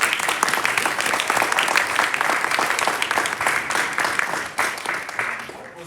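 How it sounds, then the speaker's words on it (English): Convention audience applause at a fan convention, loud continuous clapping from a large crowd with scattered cheers mixed in, holding steady before easing off near the end. "Can I get a show of applause if that's how you felt?"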